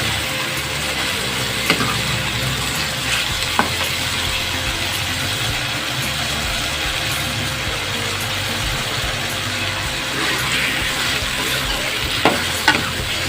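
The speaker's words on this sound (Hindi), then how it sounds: "अब इसमें आलू डाल देंगे। दो से 3 मिनट तक इसको फ्राई करेंगे।" Potato pieces frying in a pan for a Pakistani-style aloo anda curry, giving a steady, close sizzle with occasional stirring scrapes and small clicks throughout.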